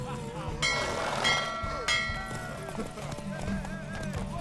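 A horse gallops during a horse race against Ciri in The Witcher 3, hooves clip-clopping in a quick rhythm close by, with whinnies, bright ringing sounds and talking voices over it.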